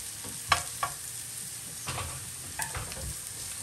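Carrots and peppers stir-frying in a pan, with a quiet steady sizzle and a few sharp clinks of a utensil against the pan early on, followed by softer stirring scrapes. No one speaks.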